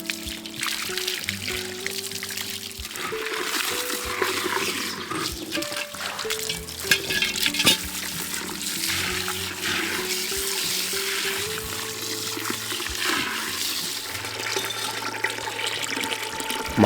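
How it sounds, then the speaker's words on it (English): Water pours and splashes while a cast iron potjie pot is rinsed clean of a vinegar and soap solution, a continuous running gush with clanks of metal and no speech. "Now let's rinse off the vinegar and soap solution thoroughly."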